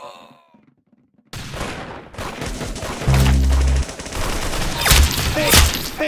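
Rapid gunfire from the Roblox shooter game Arsenal bursts in after a near-silent start and keeps up as dense, loud volleys, with a short tonal blip partway through.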